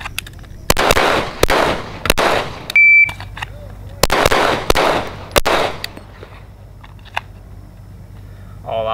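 Loud gunshots ring out in two volleys of about three or four sharp cracks each at a shooting range, followed by a few scattered fainter pops and a brief electronic beep.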